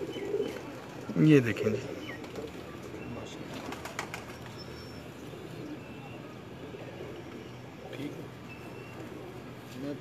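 Pigeons in a Lahore loft coo softly and low, with a brief louder burst early on, beneath someone speaking and faint background noise.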